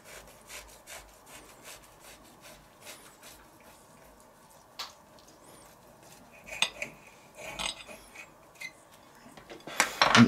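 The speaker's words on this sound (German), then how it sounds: "Und jetzt schneiden wir noch an und dann wird probiert." A knife slices through a bacon burger with pineapple on a plate, giving faint repeated scraping and sawing strokes that grow louder and sharper near the end, with light clinks against the plate.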